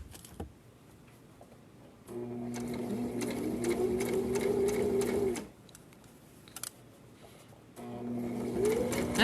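A sewing machine stitches thin fabric for a grocery bag holder, running in two steady bursts of a few seconds each, separated by a pause with faint rustling.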